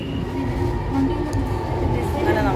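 A Kochi metro train at a station gives off a continuous low rumble and hum from the carriage while passengers stand aboard, with faint background murmur throughout.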